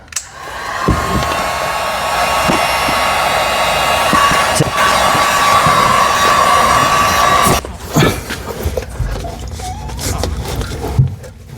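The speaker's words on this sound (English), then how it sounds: "what I'm going to do is use a heat gun, and that's going to soften up the plastic, the rubber" A heat gun blows steadily and loudly while softening a rubber steering gaiter on a Mazda MX-5 track rod, a continuous airy whir that cuts out partway, followed by scattered handling clatter and knocks.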